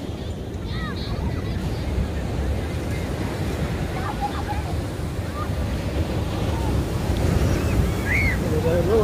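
Ocean surf washes steadily onto Sea Bright Beach, with water running high up the sand. It makes a continuous broadband roar mixed with wind buffeting the microphone, and faint chirps come through now and then.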